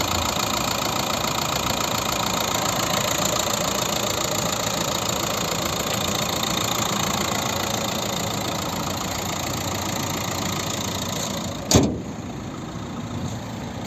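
A Renault Megane IV with a 1.5 dCi diesel engine and automatic gearbox, 2017, idling steadily with a constant close rumble and a single sharp click near the end.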